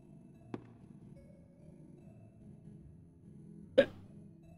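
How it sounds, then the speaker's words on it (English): Two short, sharp hiccups about three seconds apart, the second louder, over a quiet electronic background with no talk, heard during a haunted amusement park horror game. "I get hiccups out of nowhere."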